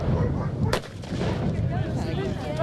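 A volley of rifles fires on a film set with one sharp, loud crack followed by a rumbling, reverberant decay and quieter background noise.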